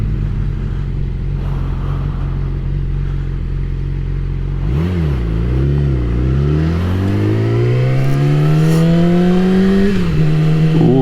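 Motorcycle engine revving hard on a first-time ride, loud and close, pitch dipping then climbing steadily through the gears over a constant roar, with no talking.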